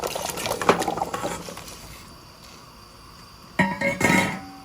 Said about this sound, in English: here I'm going to just add my breadfruit